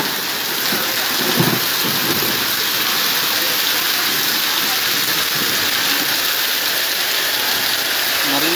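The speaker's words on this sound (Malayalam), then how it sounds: "അതിശക്തമായ വേനൽ മഴയാണ്." Heavy summer rain hisses loudly and steadily, heard from beside a main road as wind pushes through it, with a low rumble of thunder early on.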